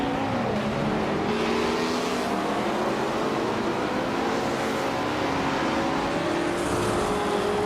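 Race cars, led by a Porsche 908 Spider, run in a racing video game. A continuous loud engine drone shifts in pitch as the cars rev and sweep past, with no voices over it.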